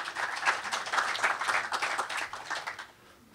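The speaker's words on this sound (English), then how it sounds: "please give a welcoming clap to Ofer." A smallish audience at a tech conference talk claps for about three seconds, scattered individual claps audible, then the applause tapers off quickly into quiet.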